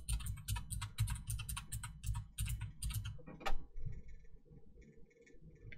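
Fast typing on a computer keyboard clatters in dense, close bursts of key clicks for about three seconds and ends with a sharper keystroke. A faint ticking and quiet room tone follow.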